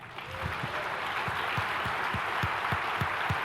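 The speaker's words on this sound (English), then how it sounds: "you can give us a big round of applause" Crowd applause after a mobile app development presentation: a broad wash of clapping from a large audience, steady and fairly loud, with a rhythmic low thumping underneath throughout.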